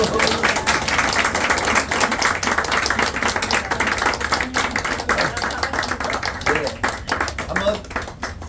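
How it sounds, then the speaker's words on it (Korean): A church congregation clapping at a farewell dinner gathering, continuous brisk applause running the full length with overlapping voices and murmuring underneath, tapering slightly at the end. "박수!"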